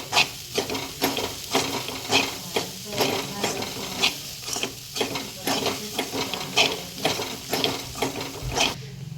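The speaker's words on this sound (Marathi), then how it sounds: "कोथिंबीर घालायची आहे आणि छान असं परतून घ्यायचं आहे सारं" Toor dal kachori filling with coriander being sautéed and stirred in a pan: rhythmic scraping strokes over a soft sizzle, close and moderately loud, with no speech.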